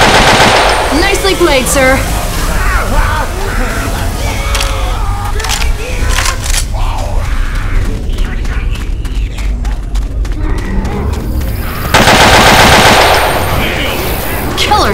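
Rapid automatic gunfire and single shots from a shooter video game crackle loudly throughout, with dense bursts mid-clip and a harsh burst near the end, over voice chat between players.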